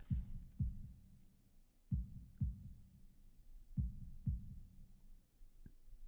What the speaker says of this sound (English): holding my breath in an attempt to hear my heartbeat